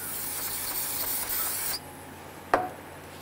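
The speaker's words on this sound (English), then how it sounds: "spray it one last time with that solvent." A loud aerosol can of solvent sprays a Ford Mustang rear axle gasket surface, hissing continuously for nearly two seconds, then cuts off, followed by a single sharp tap and quieter background.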